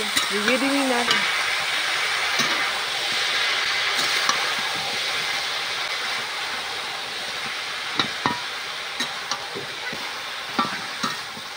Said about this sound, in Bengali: দিয়ে লাউটা তুলে দেব, একটু ভেজে নিই। দিয়ে নেড়ে নেব।